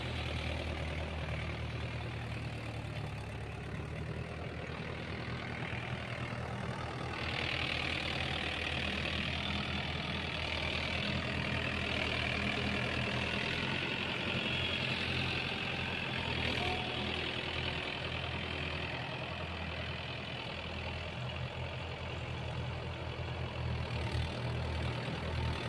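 A Mahindra Yuvo 575 four-wheel drive tractor runs steadily while pulling a nine-tine cultivator through wet, muddy field soil, a continuous low engine drone heard from a moderate distance.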